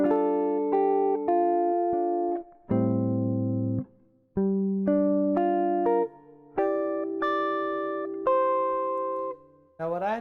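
Fingerstyle guitar playing measures of a jazz standard: a slow sequence of plucked chords and melody notes, each ringing out before short gaps, clean and close with no voice over it.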